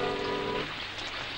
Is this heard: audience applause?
no